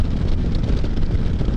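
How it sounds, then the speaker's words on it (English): Strong wind buffets the microphone in a steady low roar with gusty rumble, loud and continuous, on a 57-degree rainy December day during a Spyder F3 ride. "It's extremely windy"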